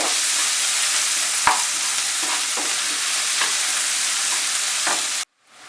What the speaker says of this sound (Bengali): পেঁয়াজটাকে একটু সময় নিয়ে ফ্রাই করব, মাঝারি আঁচে রেখে